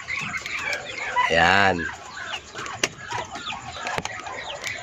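On a farm with young chicks and ducks, a nearby rooster gives one loud, drawn-out crow, followed by scattered clucks, rustling and other fowl noises. Someone speaks briefly.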